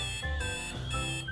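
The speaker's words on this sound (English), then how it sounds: "Why did the alarm clock have to go off?" A cartoon-style alarm clock rings loudly in a children's Pocoyo toy adventure, a steady electronic ringing tone pulsing in two bursts across a short moment, with no talking.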